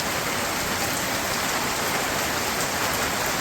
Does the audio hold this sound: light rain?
yes